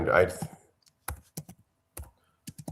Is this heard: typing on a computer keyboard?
yes